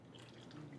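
Water poured over an instant tea bag gives a faint, soft trickle with light dripping, quiet and steady and heard alone without voices.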